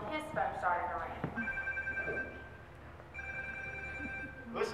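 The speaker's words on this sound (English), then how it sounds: "That is until his phone started to ring." A telephone rings in a 10th grade acting class scene, its trilling electronic rings sounding in two bursts over chatter and people talking nearby.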